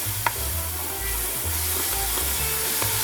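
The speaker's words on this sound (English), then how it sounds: "So we're going to saute this for a few more minutes." Ingredients for Italian mussels (zuppa di cozze) sizzling in a very hot pan, a steady loud frying hiss with a few light clinks of stirring.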